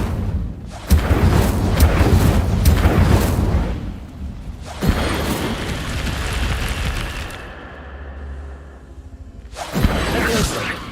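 Loud whooshing, roaring bursts of the Incendio fire spell being cast again and again in the video game Hogwarts Legacy, three long blasts separated by short quieter gaps, close and full.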